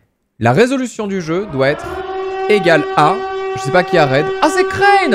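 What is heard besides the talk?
siren alert sound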